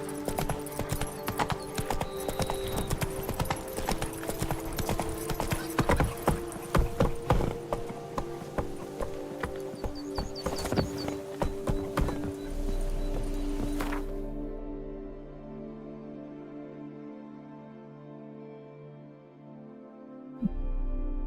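Roach the horse gallops in The Witcher 3, rapid rhythmic hoofbeats pounding steadily under game music for most of the stretch before fading out as the music carries on alone.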